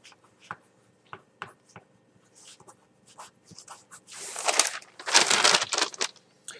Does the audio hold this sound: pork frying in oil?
no